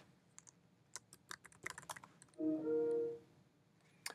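Typing on a computer keyboard to log in, a faint scatter of close individual key clicks with a brief soft electronic tone partway through, quiet otherwise.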